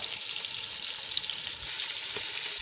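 Cod fillets fry in a hot pan with a steady, dense sizzle that holds evenly throughout, close and fairly loud with no talk.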